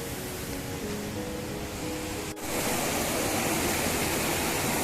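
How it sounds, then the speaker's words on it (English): The Manali River in India rushes past fast and full, a loud continuous roar of turbulent water that swells slightly stronger halfway through, with no voices. "the water is so fast and so big."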